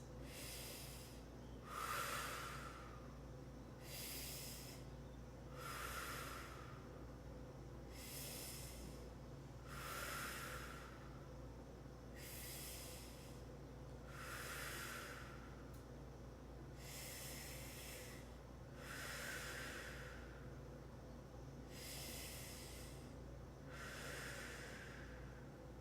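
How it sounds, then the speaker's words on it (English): Deep breaths are taken during a stretching exercise, about a dozen slow, airy inhales and exhales in a steady rhythm, close and clear over a low constant background hum. "6 big breaths."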